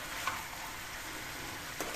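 Sea fish frying in a green chili curry gives off a faint, steady sizzle with a couple of soft pops, quiet and close, with no voices.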